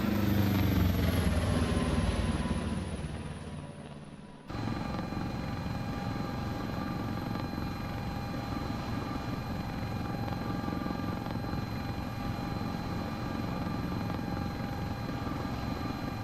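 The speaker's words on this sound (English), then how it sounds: "helicopter's going to pitch forward to give her a little bit of collective" Steady, droning rotor and turbine noise from a Sikorsky S-76C++ helicopter in the CowanSim flight simulator game, with a continuous whine that shifts abruptly partway through and then holds constant, with no voices.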